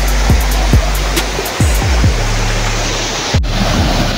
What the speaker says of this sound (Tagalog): Ito yung isang falls.